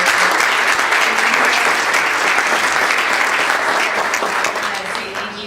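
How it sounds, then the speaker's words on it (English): Sustained applause from an audience thanking panelists and moderators after an evening panel discussion on school closings and consolidations in Cedar Rapids, held at a library; steady dense clapping throughout, tapering slightly at the end. "Let's give them a round of applause."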